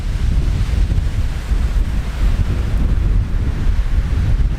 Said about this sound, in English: The wind's still pretty strong, but it did drop down a lot.